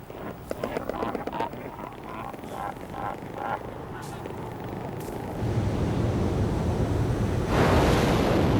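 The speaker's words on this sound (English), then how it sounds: "The wind on these islands hardly ever ceases, and great gales can suddenly arrive without warning." Strong wind roars over pounding ocean surf on the remote Crozet Islands, a loud, continuous broadband rush that swells heavier midway and surges again near the end, with no talk.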